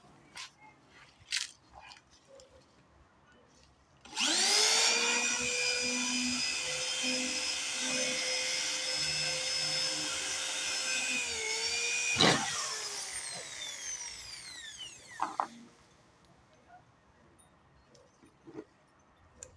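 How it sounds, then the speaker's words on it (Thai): A drill bores new holes into the gear head of a 15-year-old brush cutter, whining steadily at high pitch for about eight seconds. Its tone sags under load before it stops, followed by scattered metallic clicks and taps. "เพราะหัวเกียร์ของเขามัน รูมันหลวมแล้วครับเราก็เจาะรูใหม่ครับ"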